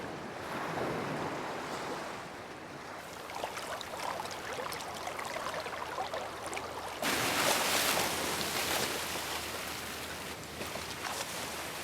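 Ocean waves wash and break steadily on a Corsican beach, a continuous hissing surf that surges louder in the second half, with wind buffeting the microphone and no voices.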